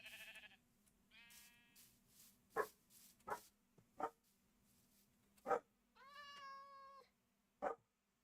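A cat meows several times in the Minecraft video game, short pitched calls spread across the clip, mixed with sheep bleats and other blocky game creature sounds over a faint background hum.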